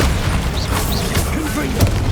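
A Bombarda blasting spell goes off in the game Hogwarts Legacy, giving a booming magical explosion amid dense game effects and ambience, with a voice present.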